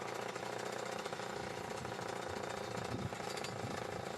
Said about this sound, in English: Drill at least 2 holes along the line where you want the rock to split.